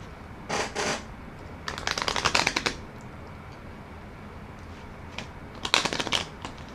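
Tarot cards shuffled by hand in several quick riffling bursts, crisp and close, separated by quiet pauses.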